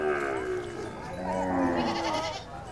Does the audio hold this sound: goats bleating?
yes